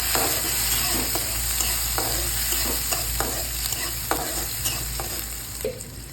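Chopped onion and tomato are stir-fried in a pan for a fenugreek-leaf dish, giving a loud, even sizzle with regular scraping strokes of the spoon every half second or so.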